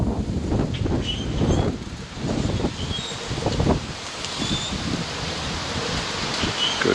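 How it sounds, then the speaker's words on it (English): Strong wind buffets the microphone of a GoPro Hero 8 Media Mod outdoors, making a loud, continuous low rumble with gusty swells and rustling throughout, and no one speaks. "Okay, a lot of wind right now."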